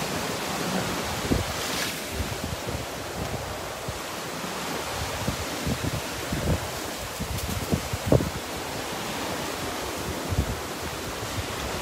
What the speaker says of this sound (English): she's getting drenched here with the waves crashing here